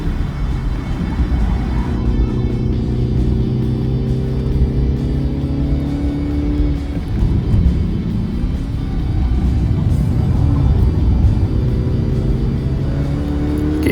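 A MINI Countryman S LCI with 192 horsepower pulls up a steep mountain incline on the Genting Highlands road. Its engine makes a steady, close, rumbling drone that shifts pitch a couple of times under load, with no talking.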